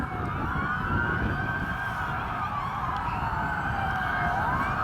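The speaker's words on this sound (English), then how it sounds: "Let the police go by with their sirens" Police car sirens pass by during an outdoor remembrance rally, a loud wailing sweep that rises and falls continuously over steady traffic rumble for the whole stretch.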